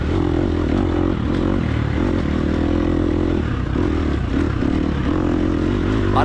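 A dirt bike engine drones continuously at full throttle during a hare scramble race in the TORCS racing game, loud and steady with slight pitch wavering and faint clatter.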